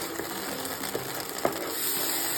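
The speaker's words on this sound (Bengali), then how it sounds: "এখানে ভেজিস আমার ফ্রাই করা হচ্ছে" Vegetables fry in hot white oil in a pan, giving a steady, close sizzling hiss with a few faint clicks of stirring.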